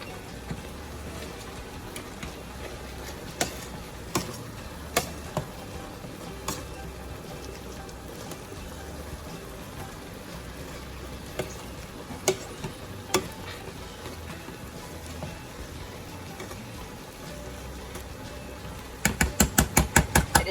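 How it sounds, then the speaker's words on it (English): Cooked apples are mashed with a potato masher, making soft squelching and stirring sounds with scattered sharp taps against the pot, then a quick burst of rapid knocks at the end. "So I'm gonna just start mashing it with my potato masher."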